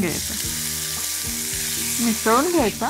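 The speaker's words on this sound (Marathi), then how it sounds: "हा पाणी निथळलेला आंबे मोहोर या तुपाच्या खमंग फोडणीमध्ये घालून" Mango blossom goes into a hot ghee tempering with cloves, cinnamon and green cardamom, giving a steady close sizzle and frying hiss throughout, with someone speaking over it.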